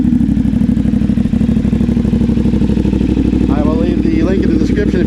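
A 2024 CF Moto 450 SS fitted with a KO Lightning exhaust idles with a loud, close, rapid pulsing beat, with a voice talking over the engine near the end.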